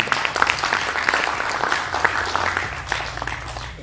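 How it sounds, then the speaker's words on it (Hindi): Audience at a Hindi televised debate show bursts into sustained clapping, a dense steady patter of many hands with some louder individual claps, continuing evenly throughout. "ताली बजाइए, ये ताली बजाने वाली बात।"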